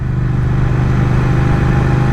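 A Triumph Speed Twin motorcycle, on its first ride after a puncture repair, rides at speed with a steady, loud engine drone and heavy wind rush throughout.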